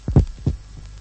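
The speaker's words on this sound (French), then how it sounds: "Dans cette direction, il y a ces lourds battements de cœur." Heavy heartbeats thud deep and close, two strong paired beats followed by a fainter third, with a low hum underneath and no voices.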